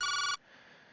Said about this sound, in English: Crowley's phone began to ring.